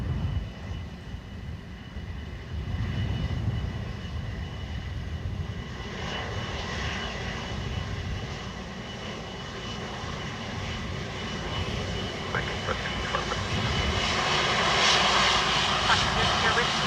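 Airbus A330 engines rumbling steadily at Dublin Airport, a broad continuous roar that swells slightly toward the end, with a voice talking over it.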